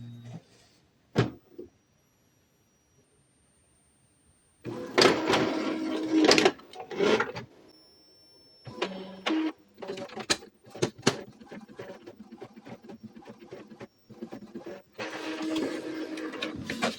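An Epson EcoTank printer running a nozzle check print, with bursts of clicking, whirring feed and carriage movement separated by quiet pauses, close and moderately loud.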